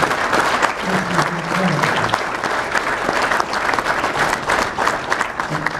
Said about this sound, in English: a big applause for Ernie and Wynot and my good buddies and their staff